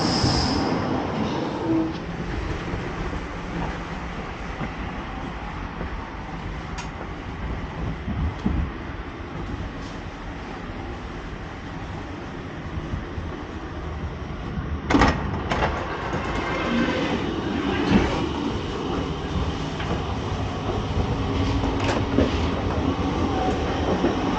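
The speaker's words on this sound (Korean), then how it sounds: "1번 열차네 옛날" An old train on a railway line in Ortisei in Italy's Dolomites, a steady close rumble of wheels on track lasting throughout, with occasional clanks and squeaks rising above the continuous roar.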